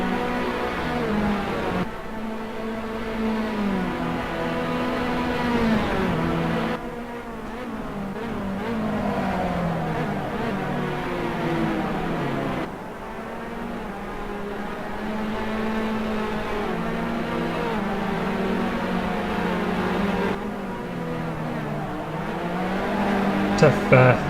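Race cars on the Vallelunga circuit in a sim racing game, engines revving up and dropping through gear shifts in repeated rising whines, loud and continuous beneath a commentator talking.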